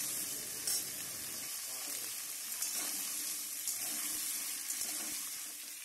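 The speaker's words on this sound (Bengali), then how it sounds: "এবার এটাকে একটু ভাজবো।" Baby potatoes fry with onions in a pan for a Bengali potato curry, giving a steady, moderately quiet sizzle with a few soft scrapes and clicks of stirring, and no voices.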